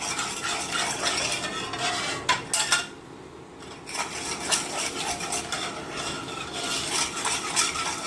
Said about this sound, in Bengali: এবার একটু মিক্স করে নেবো।